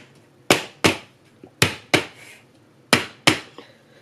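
A cake pan of sponge batter rapped against a surface six times in pairs, sharp close knocks with brief decays and short pauses between, no voices.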